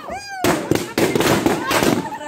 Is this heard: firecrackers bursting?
yes